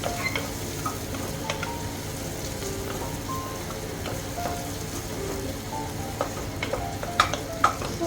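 Onions frying in a pan for palak pulao, a steady dense sizzle like light rain with occasional stirring clicks and spatters, no voices.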